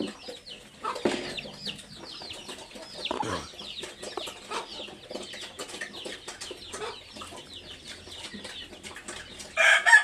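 Rooster crowing on a pig farm amid scattered clucking hens, several crows ringing out over a busy, fairly quiet background of farmyard chatter, with a louder burst at the very end.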